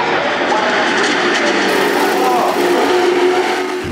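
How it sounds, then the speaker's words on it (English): A loud, close Formula 5000 race car's 5-litre V8 engine revving hard toward 8,000 rpm, its pitch shifting and sweeping as it accelerates past. "to hear a 5-litre V8 doing that sort of thing is pretty spectacular"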